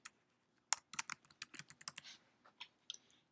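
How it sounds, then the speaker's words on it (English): Keys clicking on a computer keyboard in an irregular burst of quick taps, close and quiet, with no voices. "then you start typing your names."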